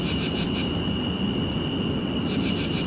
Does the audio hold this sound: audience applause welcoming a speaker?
no